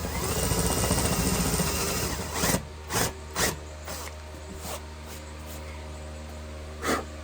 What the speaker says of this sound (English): Then you want to come in here with a drill bit and make a little bit bigger hole.